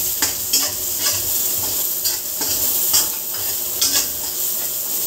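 Sliced onion and garlic sautéing in a hot pan with oil, a continuous close sizzle punctuated by several sharp scrapes and clinks of a utensil stirring against the metal.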